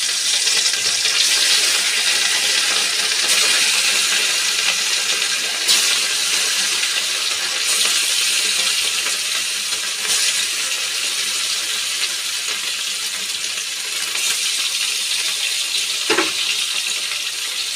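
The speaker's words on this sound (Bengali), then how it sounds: "মাছগুলাকে ভালোভাবে লাল করে ভেজে নিব আগে।" Fish frying in hot oil in a wok, a loud, steady, hissing sizzle that runs unbroken and close up, with faint occasional clinks.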